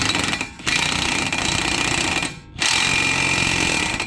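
Loud, rapid rattling of an impact wrench tightening a car axle nut, in two long bursts separated by a short pause, close up.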